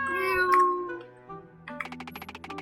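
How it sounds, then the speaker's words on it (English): A cat in the video game Homekeeping meows when petted, a long, drawn-out meow followed by a quick series of short rhythmic purring or chirping pulses. "You crossed down to pet a cat."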